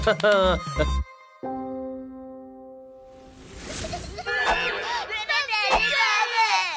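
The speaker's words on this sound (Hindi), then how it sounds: "ये बच्चों के रोने की आवाज कहाँ से आ रही है?" Cartoon children crying in a Hindi kids' animation, wavering high-pitched wails in bursts amid chattering character voices and a sustained electronic tone, moderately loud.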